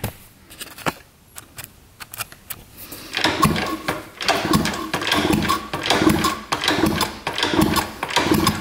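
A 1970s mini enduro motorcycle that sat in a basement for 30 years is kicked over repeatedly, its small engine turning with a fast mechanical clatter. Faint scattered taps come first, then a steady, fairly loud chattering rhythm follows.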